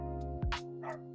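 A dog in the background gives a single short yip, quick and fairly clear, set against a steady tonal hum indoors during a model kit build.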